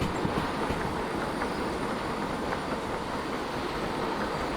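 Freight train in the Derail Valley video game runs with its brakes on, a loud, dense, continuous rumble of wheels and rail noise with a faint high squeal, steady throughout.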